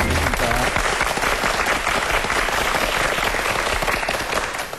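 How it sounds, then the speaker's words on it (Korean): A studio audience on a Korean TV talk show about stress relief applauds to welcome a meditation guest, a thick, sustained round of clapping at strong, even volume with a little crowd murmur. "박수로 맞이해 주시기 바랍니다."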